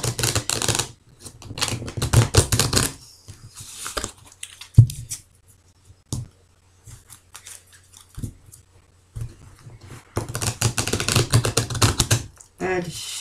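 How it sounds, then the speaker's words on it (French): Oracle cards being shuffled by hand, quick bursts of papery riffling and tapping separated by pauses, close and fairly loud. "je vais bien les mélanger parce que je m'en suis servi un petit peu avant"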